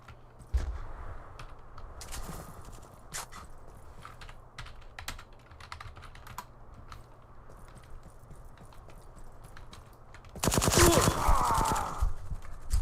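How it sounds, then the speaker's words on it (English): Gunfire in a first-person shooter team deathmatch on a custom map: a steady patter of rapid clicks and small shots runs under faint background noise, then a loud dense burst of automatic fire near the end. "Where am I getting shot from? Headshot."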